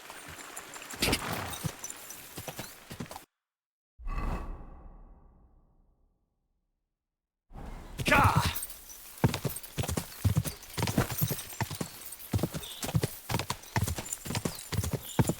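Rapid clip-clop of a fast horse galloping in a video game, loud and close, broken by a short whoosh and a few seconds of near silence before the hoofbeats return.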